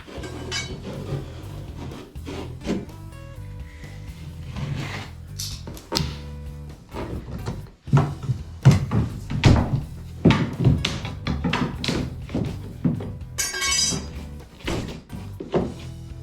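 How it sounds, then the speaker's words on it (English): Old baseboards being pried off a wall during laundry-room and bathroom prep, with repeated thunks, knocks and clattering wood-and-metal scrapes in an uneven rhythm, close and fairly loud throughout. "I'm probably just gonna take these baseboards off real quick"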